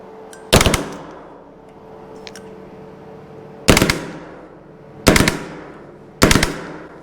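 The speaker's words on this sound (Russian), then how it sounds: "Ну и, конечно, автоматический режим стрельбы." Recoil training replica gun fires in automatic mode: four loud, sharp bursts spaced irregularly a second or more apart, each with a brief decaying tail, in a quiet room.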